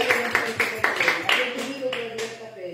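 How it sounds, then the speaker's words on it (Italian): Brief round of clapping from a book-presentation audience in Italy, a run of sharp claps over about two seconds that thins out and fades, with a voice continuing under it. "ti salutiamo con un applauso"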